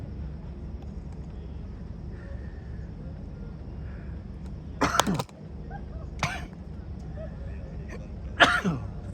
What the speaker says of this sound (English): I almost just died coughing.